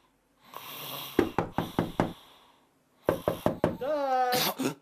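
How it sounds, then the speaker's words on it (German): Knocks on a wooden door come in two quick runs of about five sharp raps, close and loud, with a breathy voice and a rising whining call near the end. "klopfte bei Dark im Hausflur an der Tür"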